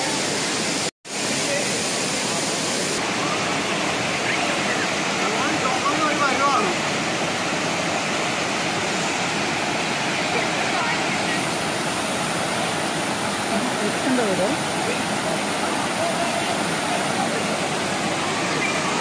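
Water rushes down Uluppuni Waterfall in a dense, unbroken roar that fills the whole stretch, loud and close, with only a brief dropout near the start.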